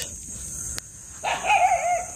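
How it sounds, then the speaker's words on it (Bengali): A dog barks and whines at night, a short burst of yelping cries after a quiet stretch with a steady high electrical whine in the background; no talking. "কুকুর চিল্লাচ্ছে কেন?"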